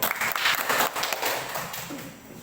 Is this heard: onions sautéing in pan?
no